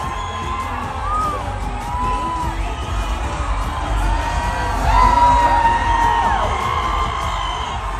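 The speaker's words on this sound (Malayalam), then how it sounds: "ആ മൂവിയുടെ ഭാഗമായിട്ടുള്ള എല്ലാവരും ആ സ്റ്റേജിലുണ്ടായപ്പോൾ കിട്ടാത്ത കയ്യടിയാണ് ഇവർ രണ്ടുപേരും മാത്രം ആ സ്റ്റേജിലേക്ക് കയറിയപ്പോൾ കിട്ടിയിട്ടുണ്ടായിരുന്നത്" A large audience at a film stage event cheers and whoops loudly as two performers walk on, a dense sustained roar of shouts and yells that swells midway and stays strong.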